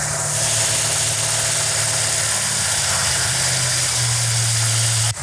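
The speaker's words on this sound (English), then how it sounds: "That's a good idle right there for right now" A 1968 Dodge Charger engine idles steadily and close after cam break-in, a constant low rumble with slightly high revs held throughout and a small drop in pitch near the end.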